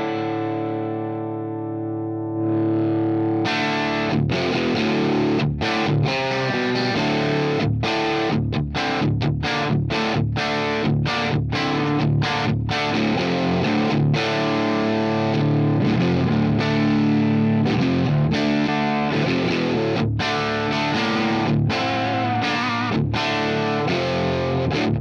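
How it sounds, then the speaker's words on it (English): Electric guitar through a Friedman JJ Jr 20-watt tube head, bridge pickup, with gritty overdriven breakup, starting with a sustained chord then strummed and picked chords in a loose rhythm, loud and close, no talking. "when you turn the volume up, you get a really nice breakup happening"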